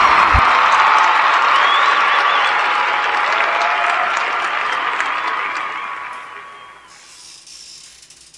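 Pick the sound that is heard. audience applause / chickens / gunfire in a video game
audience applause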